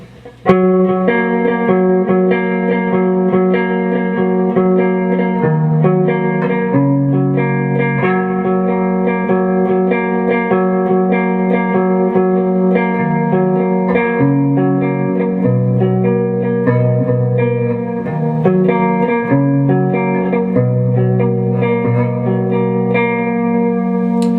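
Electric guitar plays a continuous chord-based lead part through distortion and chorus-like effects, dense and sustained with steady loudness throughout and no voices.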